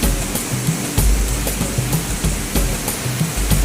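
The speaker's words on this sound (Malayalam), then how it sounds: "വെള്ളച്ചാട്ടം." Thoomanam waterfall deep in the Akamala forest pours with a steady, heavy rushing roar, uneven low surges rolling through the continuous wash of water, near and loud without any speech.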